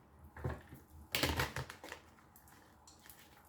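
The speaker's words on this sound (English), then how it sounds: "I'm shuffling these cards." Tarot cards are shuffled by hand in a few quick papery riffles and flicks, close and fairly quiet, with pauses between bursts and no talking.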